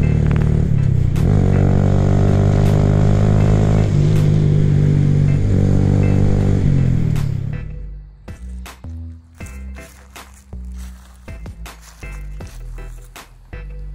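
A Honda Grom motorcycle engine revs loud and close as the throttle is twisted, holding a high droning pitch for several seconds before dropping away into a choppy, lumpy idle with sharp pops.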